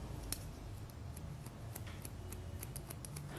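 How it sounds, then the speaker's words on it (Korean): Hair-cutting scissors snip steadily during a point cut around the head, crisp close clicks repeating in an uneven rhythm over a low steady hum, with no talking. "그 밑에 가이드 금방 잘랐던 머리와 동일한 각도를 들어서 머리를 잘라줍니다"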